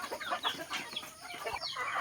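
Backyard chickens cluck and squawk close by on a family farm, several overlapping birds making busy, continuous chatter with no voices.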